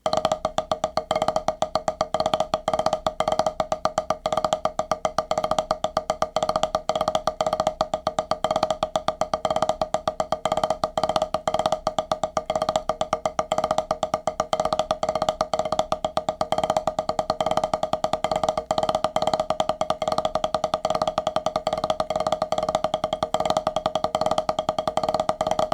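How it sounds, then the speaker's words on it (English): Drum finger control exercise alternating single and double strokes, played as a fast, continuous stream of close, evenly spaced hits with a steady ringing tone, sustained for about twenty-six seconds with no voices. "We're going to go back and forth between the singles and the doubles."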